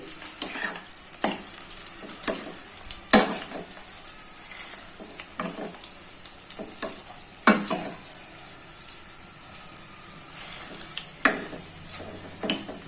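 Herbs such as vetiver roots and shikakai fry in hot oil for a homemade herbal hair oil, a continuous crackling sizzle broken by repeated sharp scrapes and taps as a spoon stirs up and down in the pot.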